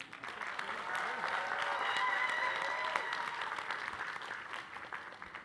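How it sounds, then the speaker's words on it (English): Steady applause from a crowd at a LaGuardia Community College commencement, a continuous wash of clapping that swells slightly and holds for several seconds. "Let's give them a round of applause."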